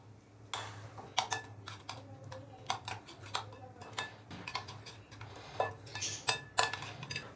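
Vinegar and soy sauce being mixed for a chicken steam roast coating in a bowl, with a spoon knocking and scraping against the dish in irregular clinks and taps, close by and fairly quiet over a low background hum.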